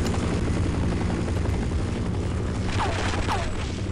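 Helicopter in Half-Life heard as a steady, loud rotor drone that fills the whole stretch, with a couple of brief descending whine-like sweeps near the end.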